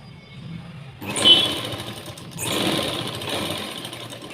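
After a second of quiet, a sewing machine stitching a blouse starts up with a close, whirring motor, runs in two steady stretches with a slight dip between them, and no one speaks.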